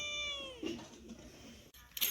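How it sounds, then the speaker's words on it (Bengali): A cat meows once after being fed fish, a clear, drawn-out, falling meow up close, followed by quieter shuffling and a short rustle at the end. "বিড়াল এখন খুব খুশি, বিড়াল খাবার পাইছে আর খুশি হয়েছে।"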